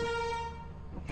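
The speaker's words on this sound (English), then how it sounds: "I want to keep this air horn." An air horn in the video game Lethal Company gives one steady, brassy blast that fades over about a second, close and alone.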